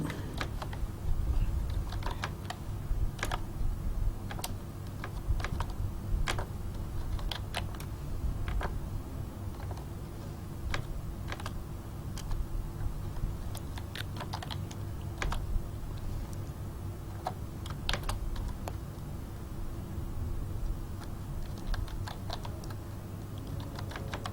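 Code being typed into Notepad on a computer keyboard, steady irregular key clicks continuing throughout over a low background hum, close and moderately quiet.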